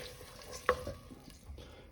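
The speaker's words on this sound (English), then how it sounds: "now we stir." A utensil scrapes and stirs through soffritto with passata and water in a pan, with a soft sizzle underneath and one sharper clink near the start.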